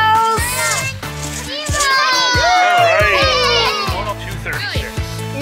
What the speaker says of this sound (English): Yeah, they have a cheering crew over here.